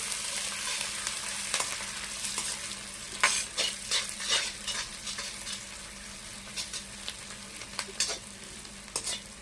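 Onions sizzle steadily in hot oil for a macaroni dish, with scraping and stirring strokes of a spoon in the pan, close up and continuous.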